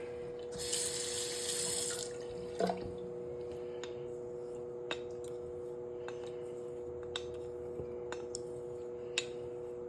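Tap water gushes briefly onto a Moughton siltstone honing stone used for a vintage Boker straight razor, a loud splashing burst followed by soft knocks and scattered drips in a quiet room.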